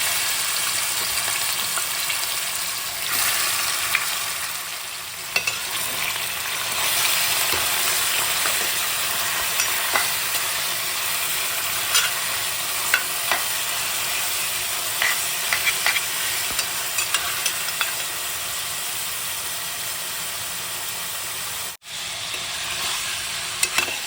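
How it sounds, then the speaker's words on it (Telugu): Marinated turkey pieces frying in hot oil for a curry, a continuous close sizzle with scattered pops and occasional stirring scrapes that hold steady throughout. "ఈ చికెన్ని ఒక 5 నిమిషాలు ఆయిల్లో బాగా ఫ్రై చేసుకోవాలి."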